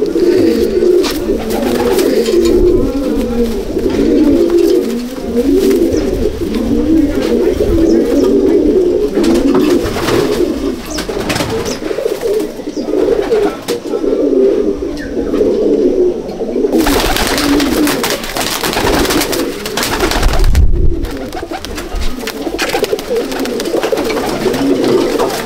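Continuous cooing from many racing pigeons inside a loft, a dense warbling murmur near the listener, broken by occasional bursts of wing flapping and rustle.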